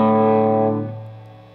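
A distorted electric guitar rings out the second part of the solo lick, a single bright sustained phrase that fades into its tail.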